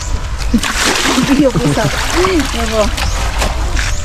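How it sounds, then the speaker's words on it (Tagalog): Water from an outdoor faucet in a Filipino home's laundry area splashes and gushes loudly and close, with a person talking over the steady flow. "Ay, ito pala yung gripo ko guys."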